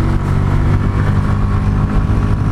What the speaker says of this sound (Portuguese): Tá subindo, ganhando velocidade.